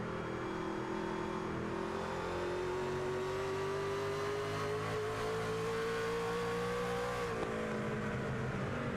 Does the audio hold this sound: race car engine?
yes